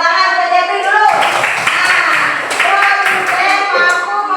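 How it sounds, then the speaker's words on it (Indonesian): A classroom of children breaks into applause for a classmate, a dense burst of clapping that starts about a second in and carries on steadily, loud and close, with a voice speaking over it at first. "Pinter Jeff, tepuk tangan buat Jeffrey dulu."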